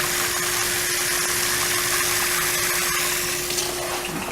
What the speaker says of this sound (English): now I'm going to put some water in this bowl.